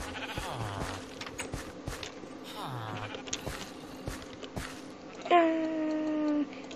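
Sheep bleat in the Minecraft video game, a couple of wavering cries early on, with clicks and a sustained synthetic tone near the end, under a faint background.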